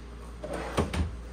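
A cabinet drawer in a 2024 Cruiser RV Shadow Cruiser 260RBS travel trailer slides and bumps shut: a faint rub followed by two soft close-up wooden knocks in quick succession.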